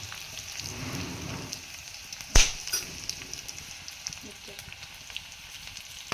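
Chopped onion dropped into a hot pan for a rural wild-greens dish, a sharp burst of sizzling and frying that settles into a steady crackle, close and fairly loud.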